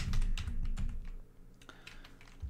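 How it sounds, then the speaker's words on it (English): Typing on a computer keyboard at close range, a rapid run of light clicking keystrokes that thins out into a few scattered taps before stopping. "But I'll just type in daily astrology."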